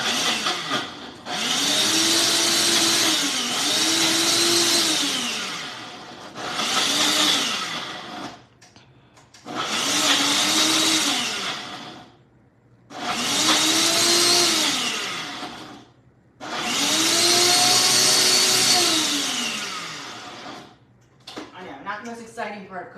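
A kitchen blender whirs in repeated loud bursts while mixing mango ice cream with maple syrup, its motor pitch dipping and rising under load, with short pauses and people talking between runs.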